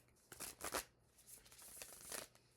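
A tarot deck of 78 cards being shuffled by hand, giving a few quick riffling bursts of card noise close to the listener, separated by quieter pauses, with no talking.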